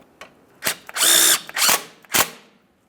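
Power tool driving a suspension mounting bolt on a 2003-2011 Mercury Grand Marquis during a rear air spring to coil spring conversion: several short, loud whirring bursts with one longer sustained run, close up and with no talk.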